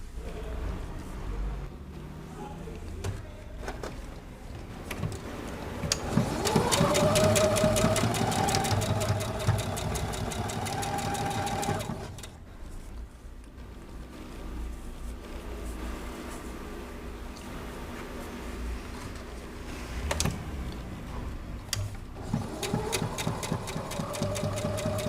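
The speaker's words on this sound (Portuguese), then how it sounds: "E vou costurar os 4 quadradinhos." A sewing machine stitches four small fabric squares together for a Christmas wall hanging, running in a fast mechanical whir that speeds up and slows between bursts, with short pauses and handling noises in between.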